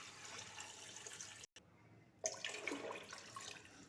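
Water being added to a pot for cooking beef paye, a faint steady pouring and running hiss with a short break in the middle and bubbly splashing after, with no speech.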